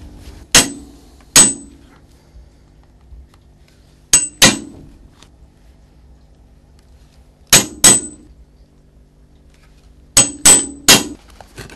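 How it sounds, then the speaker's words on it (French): Paired hammer blows on a leather hole punch striking through shoe upper leather for lacing holes in a cobbler's workshop, four sets of two or three sharp close knocks separated by quiet pauses. "on va préparer l'emporte-pièce pour réaliser les trous"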